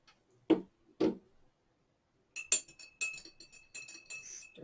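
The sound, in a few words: stirring tea in a glass, clinking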